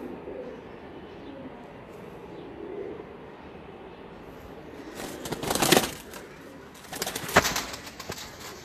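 Show pigeons kept at home give low, faint coos under a steady hiss, broken by two loud, close bursts of fluttering wings.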